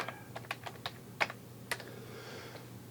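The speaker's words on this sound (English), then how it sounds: "I type in my password." A password typed on a keyboard for a Raspberry Pi 3, about a dozen crisp, close keystrokes in an uneven burst, then quiet.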